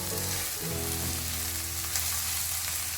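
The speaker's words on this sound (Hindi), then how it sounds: "अब हम ऐड करेंगे प्याज, प्याज को जो है वो हम थोड़ा सा सौते करेंगे।" Onions sauté in hot oil in a pan for a tandoori chicken cholay dish, giving a close, steady sizzling hiss that stays even throughout with no talk.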